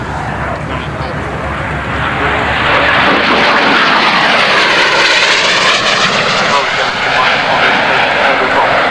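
A 20 Squadron aircraft's engine roars loud and close, swelling after a few seconds into a sustained broadband drone, with a voice speaking over it.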